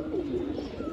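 A pigeon coos softly in a short, low, rolling call, heard alone against quiet background noise.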